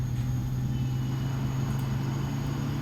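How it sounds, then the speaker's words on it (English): Boeing 777-300ER engine starting up in the Prepar3D flight simulator game, a steady low rumbling drone with a constant hum and faint high whine, continuous and moderately loud with no speech. "Engine starting up. Oh, that sounds so nice."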